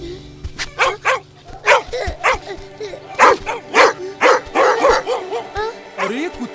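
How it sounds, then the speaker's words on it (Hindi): Several dogs bark loudly in quick repeated bursts, with sharp yips and a few whimpering notes between them, close and uneven over a faint low background. "ये कुत्ते क्यों भौंक रहे हैं?"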